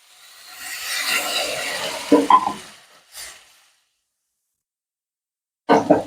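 A spoon stirs tomatoes seasoned with salt and turmeric in a pan, making a soft scraping sizzle that builds for about two seconds, then a few sharper scrapes and a short clatter. Silence follows before a final burst of stirring.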